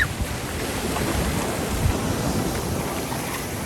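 Ocean waves break on a shore where surfers are heading into the water, a constant broad roar of surf mixed with heavy wind buffeting the microphone and no talking.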